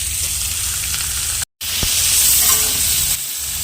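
Bhola fish frying in a pan of hot oil, giving a steady close sizzle and crackle that cuts out briefly for a moment before carrying on.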